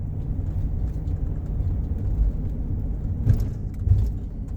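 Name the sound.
bus driving through down the middle of the road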